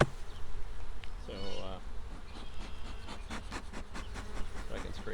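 Honey bees swarming around a hive while honeycomb is cleaned off, a loud continuous close buzzing with individual bees passing near, and a voice speaking briefly.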